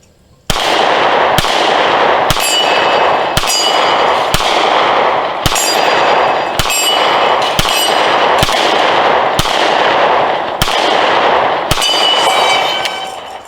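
A Canik MC9 pistol fires about eleven sharp, evenly spaced shots over a ringing range background, close and loud, ending with a failure to feed.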